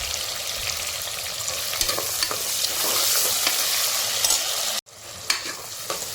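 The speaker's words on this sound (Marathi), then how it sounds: "आपण तीन मोठे कांदे घेतलेले आहेत कापून थोडा व्यवस्थित परतून घेऊया" Three large chopped onions frying in cumin-seasoned oil for chicken pulao, a loud continuous sizzle with stirring scrapes throughout, cut by a brief dropout near the end before the frying resumes.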